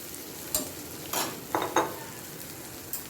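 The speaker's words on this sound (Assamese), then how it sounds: "মই ইয়াতে এতিয়া মাছখিনি দি দিম।" Fish head pieces fry in a hot pan with a steady sizzle, punctuated by several sharp stirring scrapes and clinks of utensil against metal, close and moderately quiet.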